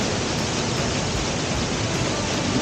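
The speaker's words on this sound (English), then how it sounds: "a lot of water coming down there in the morning" Steady, dense rush of a mountain waterfall pouring down, a constant broadband roar with no breaks, close and fairly loud.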